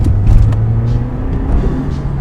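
A car in race mode accelerates at close range with a loud, steady engine roar, a rising whine and a rumbling low end, alone without speech.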